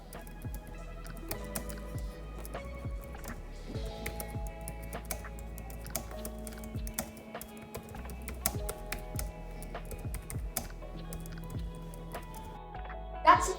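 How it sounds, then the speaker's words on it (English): Steady, close typing on a pink Logitech K380 compact wireless keyboard, with a continuous patter of soft keystroke clicks and irregular rhythm, recorded alone without speech. "we couldn't have a video of keyboard without some ASMR keyboard typing, so here you have it."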